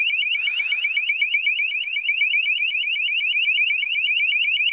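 A steady, rapid electronic alarm beeps continuously in a fast warbling pulse, loud and unbroken from start to finish, with no voices.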